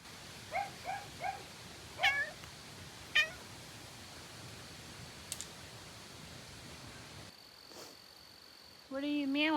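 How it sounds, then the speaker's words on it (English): A house cat meows several times, short close calls in quick clusters with gaps between, over a quiet background, ending in a longer drawn-out meow. "What are you meowing about?"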